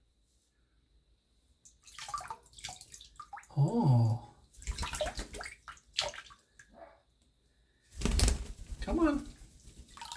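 A pet cockatiel gets a bath as water splashes and drips in short bursts, close and fairly soft, while a person talks to the bird with gaps of near silence.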